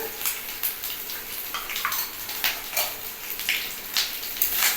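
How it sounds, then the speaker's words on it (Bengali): Spices and chopped coconut fry in oil in a kitchen pan, giving a soft, steady sizzle broken by repeated bright scrapes and clinks of stirring, close by and without talk. "আমি তেলের মধ্যে হালকা হালকা করতে করতেই সব মশলা দিতে থাকি আর দিচ্ছি কুচানো নারকেল"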